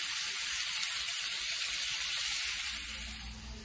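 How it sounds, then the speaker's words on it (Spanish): Onion and tomato sizzle steadily in a hot pan while cooking shrimp taco filling, a dense even frying hiss close up that fades slightly near the end, with no talking. "aquí la cebolla ya se está empezando a dorar, así que aquí le voy a poner el tomate"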